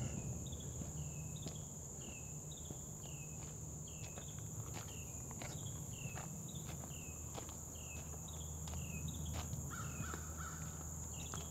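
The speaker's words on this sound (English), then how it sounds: "but there's a bunch of birds." Many small birds call repeatedly from tree cover in the wild, a regular pattern of short chirps over a steady insect drone, moderately distant and with no talking.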